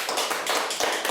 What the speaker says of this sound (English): We act out the scene for the children and are rewarded by immediate applause.